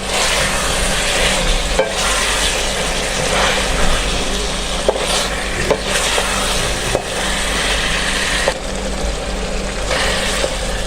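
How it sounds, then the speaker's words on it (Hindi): Potatoes tumble into chicken curry frying in a pot, with a steady close sizzle and scraping, clattering stirring strokes over a constant loud hiss, no talking. "इस टाइम पे आगे हम अपने आलू शामिल करेंगे।"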